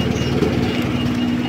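An old car's engine runs steadily at close range with a low, droning hum and faint rhythmic pulsing as the clutch is let out, with no talking over it.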